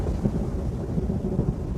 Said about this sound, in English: Ariel goes to the ship and makes a tempest with wind and rain